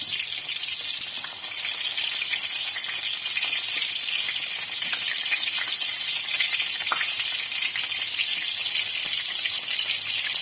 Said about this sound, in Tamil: ஸ்டஃப் பண்ண கத்திரிக்காயை 2 போட்டு பொரிச்சு எடுத்துருங்க